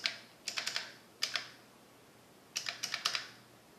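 Single-finger typing on a computer keyboard connected to an Apple Silicon Mac: sparse, uneven clusters of close, crisp key taps separated by short pauses, with no voices.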